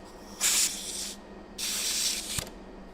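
Compressed air hisses through a mist coolant (MQL) system on a machine, two bright bursts of spray roughly a second long each, separated by a short pause, close and fairly loud against a quiet room.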